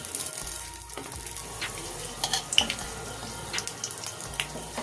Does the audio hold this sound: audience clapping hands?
no